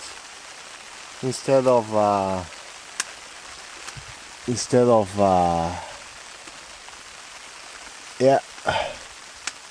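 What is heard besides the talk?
rain falling on a hot tent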